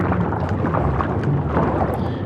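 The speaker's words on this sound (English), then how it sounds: "I love when my computer sounds like a tree." Computer cooling fan running warm, with one exhaust port partly blocked, produces a loud, steady broadband whir and rush that holds constant throughout, close and without pauses.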